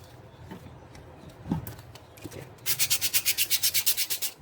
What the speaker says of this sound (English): So here, let's sand it a bit.